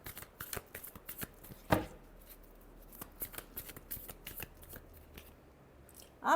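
Tarot cards shuffled by hand, a run of soft riffling flicks and light slaps, quiet and close, with a couple of sharper snaps.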